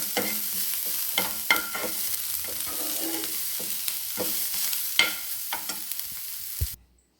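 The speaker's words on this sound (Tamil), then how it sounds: "எல்லாத்தையும் போட்டுட்டு கலந்து விட்டு" Spiced mixture with asafoetida and chilli flakes stirred in a frying pan for podi paniyaram, steady sizzle with repeated spoon scrapes and clinks close up, no talking, ending abruptly in silence.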